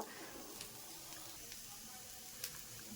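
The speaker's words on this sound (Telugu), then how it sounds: "ఈ మట్టికాయల్లో మనం ఒక నిమిషం ఇలాగే వేయించుకుందాం" Matti kayalu beans frying in a pan give off a soft, steady sizzle, faint and continuous with a few light crackles and no talking.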